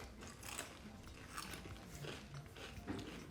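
Crunchy kettle-style sharp white cheddar potato chips are bitten and chewed close to the mic, with repeated crisp crackling crunches coming in irregular bursts and no talking.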